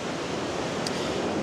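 Sea surf washing onto a sanatorium beach in Yalta, Crimea, a steady broadband wash of waves heard up close with no voices.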